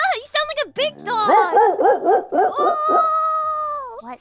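Dog bark effect played from a soundboard produces a quick run of bright, tonal, rhythmic barks and then a long sustained howl-like tone, loud and close.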